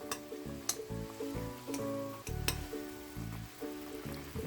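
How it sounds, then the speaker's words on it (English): Miso sauce is spooned over mackerel simmering in a pan with ginger slices, giving a steady low sizzle and bubbling, broken by soft scraping and a few light clinks of the spoon, close and fairly quiet. "I'm gonna cover the fish a little bit with sauce."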